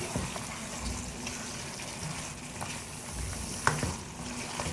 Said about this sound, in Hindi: अब मीडियम फ्लेम पर हम भून लेंगे।